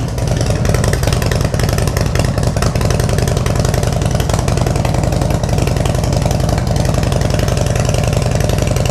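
Harley-Davidson motorcycle engine idling with a newly installed exhaust, a loud, steady, deep throbbing rumble with even pulsing beats throughout, close and without talk.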